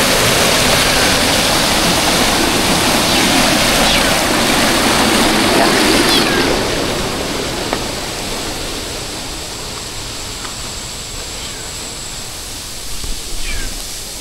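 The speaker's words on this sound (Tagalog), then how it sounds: "Ayan ang falls, ah." Waterfall at D' Tree Farm in Bailen, Cavite, a steady broad rush of falling water heard up close, easing somewhat after the first few seconds with a brief knock near the end.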